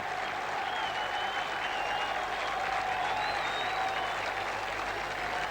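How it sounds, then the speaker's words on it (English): A large stadium crowd of Greek and London supporters roars and cheers continuously at the 1971 Chelsea v Real Madrid Cup Winners' Cup final replay in Piraeus, near Athens. The dense, steady applause and whistles carry throughout, with no one talking over them. "the Greeks are cheering as loudly as indeed are the Londoners"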